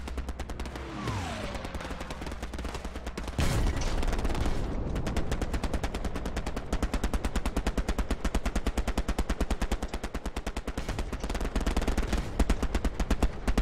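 A strafing run in the video game Hell Let Loose: a dense, steady stream of rapid machine-gun fire rattles on for many seconds, loud and continuous, with a heavy blast partway through and no talking over it.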